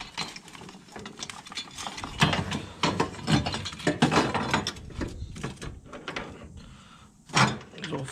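Nuts being spun onto the engine mount bolts of a Mazda 3 during a left-side motor mount replacement, giving irregular close metallic ratcheting clicks and scrapes in short bursts with quiet gaps.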